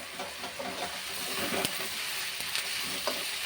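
Egg curry fries on high flame in a pan, a steady loud sizzle and hiss broken by a few scraping stirs of the spoon.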